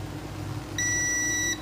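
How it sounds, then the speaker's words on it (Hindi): A multimeter in continuity mode lets out one short, clear electronic beep, under a second long, as its probes touch across a coil on an ECM circuit board being repaired. The background is otherwise quiet. "ठीक है बीप की आवाज़"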